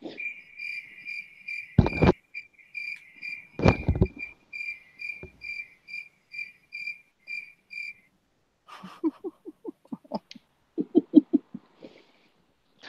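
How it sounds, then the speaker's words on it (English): Cricket chirping sound effect: steady, evenly spaced high chirps repeat for several seconds, interrupted by a couple of dull thumps, then give way to a faint, softer chirping pattern near the end. "I was about to say, cue the crickets."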